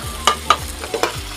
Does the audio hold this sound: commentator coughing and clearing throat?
no